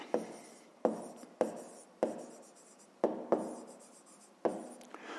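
Pen or pencil writing by hand on paper during a fifth-grade math exercise, a series of close, distinct strokes and taps at an uneven rhythm, each with a short scratchy tail, with no talking.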